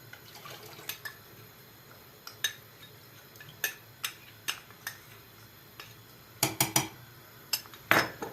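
A utensil stirs and knocks against a pot of milk pudding mixture with vanilla and starch, sparse sharp clinks at first, then a quick cluster of clatters, close and fairly quiet.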